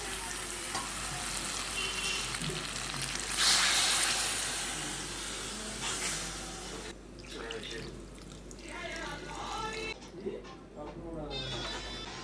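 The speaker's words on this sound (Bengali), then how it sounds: "এবার আমি এর মধ্যে পরিমাণ মতো জল দিয়ে দিচ্ছি" Water poured into a pot of chicken curry, a loud rushing splash over a hot sizzle that swells and then tapers off into bubbling, with a voice talking faintly underneath.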